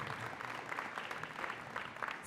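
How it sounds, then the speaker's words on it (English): Faint, distant applause from an audience at a school ribbon cutting, a soft continuous spatter of clapping hands heard from afar for the whole stretch. "You can clap."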